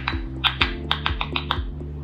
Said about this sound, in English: Sounds emitted by tomato plants.